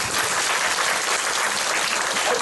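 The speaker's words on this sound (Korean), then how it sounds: "박수는." A church congregation at a healing revival service claps together in steady, dense applause that fills the whole moment at an even, fairly loud level, with no voices rising above it.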